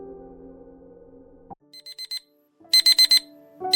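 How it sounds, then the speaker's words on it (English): An alarm clock screeches in short repeated electronic beep bursts, first a quieter run of pulses then a louder cluster, following a low droning hum, with no talking. "You wake up groggily to the screeching of your alarm, its blaring voice cutting through the veil of sleep."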